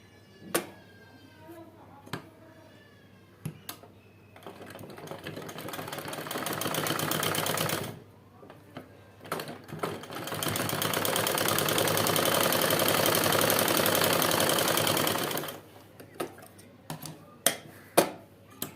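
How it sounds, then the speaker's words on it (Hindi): An electric sewing machine stitches the side seam of a nyra cut designer kurti, running in two long continuous bursts with short stops and clicks between them. "इधर भी दूसरी साइड भी सिलाई लगा लेनी है।"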